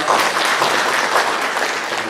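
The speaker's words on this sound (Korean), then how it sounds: "박수를 하겠습니다" Congregation applauding during a church service to welcome newcomers, brisk, full clapping that is loud at the start and stays steady through the short stretch.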